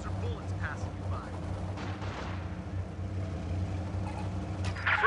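Distant battlefield gunfire and artillery rumble from a Company of Heroes 2 American skirmish match, with bullets whizzing by amid a steady low engine drone and scattered cracks throughout.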